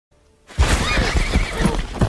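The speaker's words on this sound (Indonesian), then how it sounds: "Aiden pun datang dari sisi lain kebun jagung dengan menaiki kuda" A horse gives a loud, close, drawn-out neigh while hooves thud in an uneven rhythm beneath it, starting abruptly after a near-silent opening.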